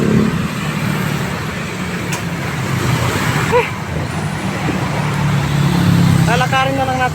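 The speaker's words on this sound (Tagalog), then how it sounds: "Ang traffic niyan. Ayan o. Daming motor." Busy road traffic thick with motorcycles hums and rumbles steadily nearby, with engines passing, a brief brake hiss and a short horn-like tone near the end, and talk over the noise.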